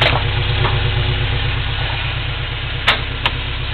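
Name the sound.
engine idling with a slight rumble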